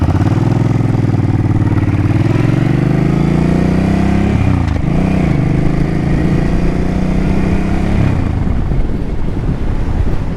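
A Suzuki Boulevard C50T cruiser motorcycle, louder than stock, rumbles loudly and steadily while riding. The engine note dips and rises midway through the ride, then settles into a lower drone.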